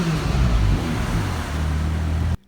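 McLaren 570S Spider engine revving hard, a loud, steady, full-bodied roar that holds for over two seconds and then cuts off abruptly.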